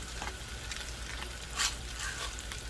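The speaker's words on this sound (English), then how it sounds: "you have the molokhia still cooking on a low heat" Molokhia simmering on low heat in a pot, with a soft, continuous sizzle and faint bubbling, plus a few light clinks and a brief brighter spatter, quiet and close, with no voices.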